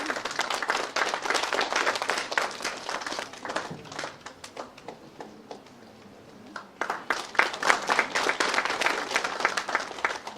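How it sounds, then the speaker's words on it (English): An auditorium audience at an institute day ceremony breaks into loud, full applause welcoming Professor Rakesh Sehgal, dips briefly in the middle, then swells again. "Please join me in welcoming Professor Sehgal with a wide round of applause"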